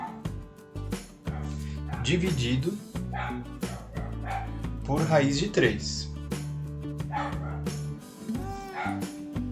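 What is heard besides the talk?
dog barking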